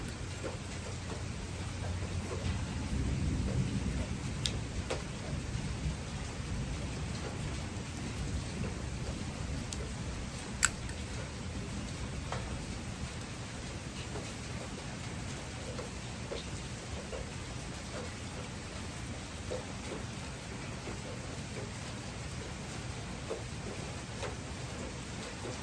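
A steady downpour of summer rain hisses continuously on surfaces, while low rolling thunder rumbles underneath and swells early on, heard alone without any voices.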